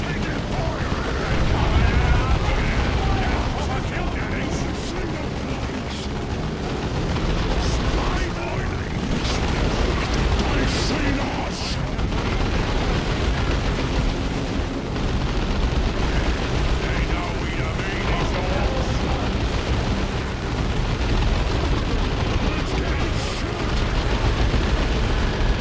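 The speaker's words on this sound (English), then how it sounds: "orcs. Grenades." Dense, continuous battlefield din from Dawn of War 2, with booming grenade blasts, gunfire and impacts layered over one another throughout, loud and unbroken.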